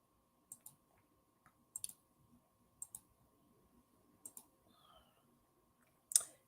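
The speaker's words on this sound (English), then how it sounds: "got to go through a lot of clicking to get these to come up on the screen" Sharp computer mouse clicks, single and double, spaced irregularly over several seconds, close and crisp against a quiet room with a faint background hum.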